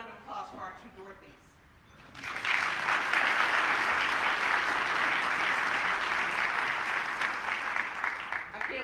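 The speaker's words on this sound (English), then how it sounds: "how about another round of applause for our two Dorothys?" Audience at a city's State of the City address breaks into steady, full applause after a voice speaks briefly, the clapping sustained and fairly loud until the end.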